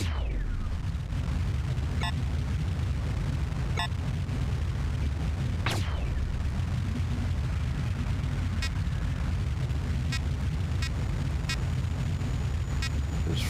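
Spaceship weapons in Independence War fire repeatedly, sharp bursts and zaps popping at intervals over a constant low rumbling hum of the ship.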